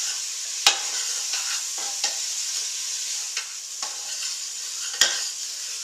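Vegetables for red lentil soup sizzle softly as they sauté in a pot, with a steady frying hiss and occasional sharp clicks of a utensil stirring against the metal.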